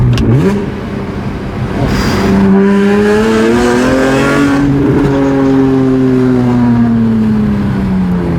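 A BMW E46 M3 engine revs hard with an open exhaust, rising and falling through a loud downshift, with a sharp crackle in the middle; close and continuous.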